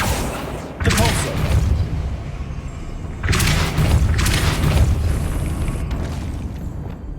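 In Hogwarts Legacy, the Depulso spell is cast twice. Each cast is a heavy booming blast followed by a rumbling, crackling tail that carries on under steady game ambience.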